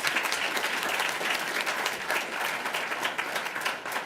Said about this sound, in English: let's give those individuals a round of applause